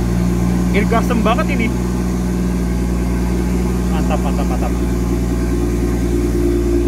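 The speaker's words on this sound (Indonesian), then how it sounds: "Nah, ini suara mesinnya gelegar banget ya." A 2018 BMW M2 engine runs with a loud, deep and steady rumble close by, with no distinct rev rises, while someone speaks over it.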